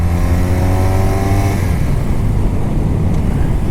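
A 1986 BMW R80 motorcycle engine revs close up, a loud continuous throaty drone with a steady tone that pulls up briefly, then settles into rough, dense rumble.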